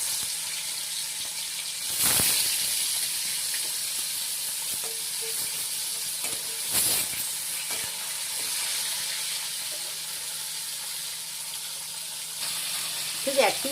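Parshe fish frying in hot oil, a steady close hiss and sizzle with two louder bursts of spitting as pieces go in, continuing evenly throughout with a low background hum.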